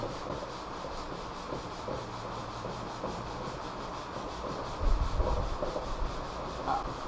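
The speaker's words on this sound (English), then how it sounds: "So I'm gonna wet this scuffing pad and work it down." A wet scuffing pad rubs down plastic parts in steady, close back-and-forth strokes, a continuous soft scratchy friction with one slightly heavier pass near the end.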